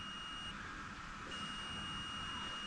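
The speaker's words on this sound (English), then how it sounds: "Got my multimeter. So that's beeping when it touches." A multimeter's continuity beep, a steady high electronic tone, holds throughout while testing a switch on a 1999 Honda XR250R motorcycle, faint and continuous over a low background hiss, with no talking.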